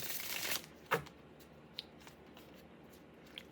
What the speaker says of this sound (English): Three shuffles on each side, and then we'll cut the deck